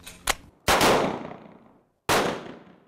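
Handgun shots at an outdoor range during a carry class: a faint early crack, then two loud, sharp reports with long ringing decays, close and separated by about a second and a half.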